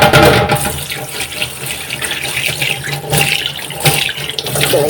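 Tap water runs steadily into a container at a kitchen sink, a continuous close rushing splash that swells and dips slightly for about five seconds, with no voices.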